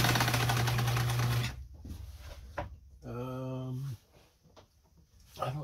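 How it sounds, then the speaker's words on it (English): A Lincoln sewing machine stitches fabric with a steady, loud mechanical whir that stops, followed by quieter handling noises and a second short run of the motor. "Now the machine is moving the fabric."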